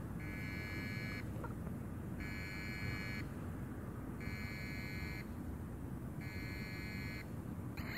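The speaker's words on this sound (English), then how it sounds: "You now hear it beeping." A steady electronic beep from a speaker driven by an Arduino repeats four times in an even rhythm, each tone about a second long with equal gaps, over a background hiss.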